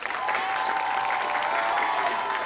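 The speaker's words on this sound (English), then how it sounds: "Big round of applause for both our schools." Studio audience at a high school quiz show claps for both competing schools, a brief steady burst of applause with a faint tonal hum underneath.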